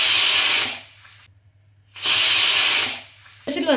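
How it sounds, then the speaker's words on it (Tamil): A pressure cooker whistle blasts steam while cooking rice for curd rice, two loud hissing bursts separated by a short silence, with a third burst starting at the end. "விசில் வந்துடுதுப்பா, அடுப்பை அணைக்கிறேன்"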